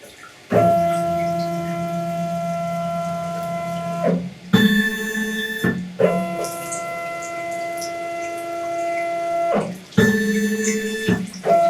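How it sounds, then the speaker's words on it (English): NDT robotic scanner climbing a wall plate while collecting data, a steady motor hum with clear tonal pitch, running in long stretches that are broken by brief pauses and shifts in tone. "I'm just going to start data acquisition and then tell the scanner to start moving"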